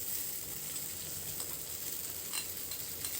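Chopped ridge gourd skin sautés over a medium flame, a soft, even sizzle with light stirring scrapes, fairly quiet and without talk.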